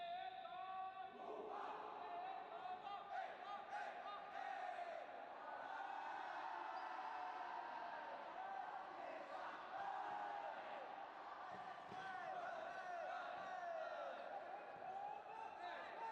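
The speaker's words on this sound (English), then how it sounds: "Little bit of cheer from both these teams and their camaraderie as well." Players at a youth tchoukball championship third-place match cheer together, a faint, sustained crowd of shouting voices and whoops echoing in an indoor court.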